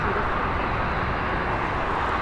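A passenger airplane touches down and rolls out at Dublin Airport, a steady broadband roar of engine and runway noise, loud and unbroken throughout with no voices.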